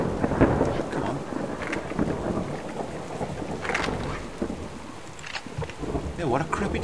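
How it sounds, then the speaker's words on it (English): Steady rain with rolling thunder in the survival game Subsistence, a continuous wet hiss broken by low rumbles and louder thunder swells, with occasional talk over it. "It's raining all bloody day."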